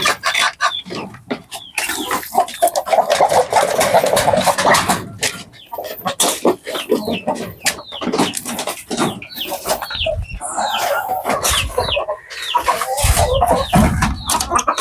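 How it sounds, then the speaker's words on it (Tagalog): Jersey Giant chickens cluck and call steadily at feeding time on a homestead poultry farm, a busy chorus of close, overlapping hen clucks with occasional louder calls throughout. "Nagpapakain na tayo ng ating mga manok sa ating mga Jersey Giant at chicken breed."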